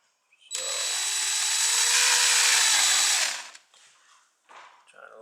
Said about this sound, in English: this is a 1/4 inch drill bit. That's what I'm starting at